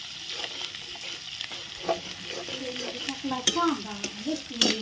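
Cauliflower frying in a kadhai, stirred with a spoon: a steady close sizzle with intermittent scraping strokes against the pan's metal, growing busier toward the end.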